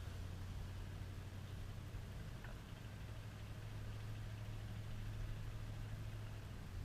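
A car takes tight curves at about 25 mph, a steady low engine and road drone holding evenly throughout with no talking.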